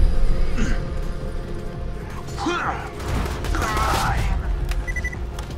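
Gunfire in the video game Borderlands 2 from an inaccurate gun, bursts of sharp shots and mechanical clatter scattered over several seconds with a voice talking over parts of it.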